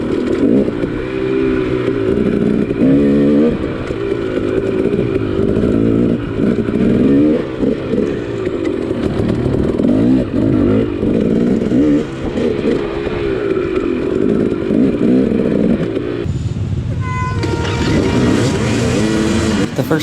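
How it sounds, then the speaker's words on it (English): A dirt bike engine with a SmartCarb 2 carburetor runs loud and close throughout, a continuous throbbing idle with slight revving variation, rising in pitch near the end. "how well the bike starts with a SmartCarb 2. Hot or cold, the bike will fire up instantly"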